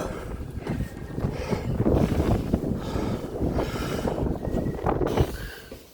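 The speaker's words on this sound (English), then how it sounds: "a bit blowy up here already" Strong wind gusts buffet the microphone at the top of the Liverpool Cathedral tower, a loud, continuous rumbling roar that swells and eases in irregular surges.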